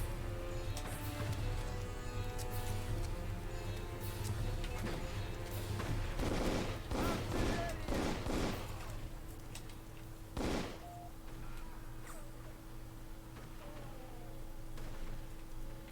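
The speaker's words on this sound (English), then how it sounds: "I just noticed that this is the danger pistol." The danger pistol fires in the video game Darkest of Days in bursts of sharp, rapid shots that cluster around the middle, with one loud crack later, over steady game music and background din.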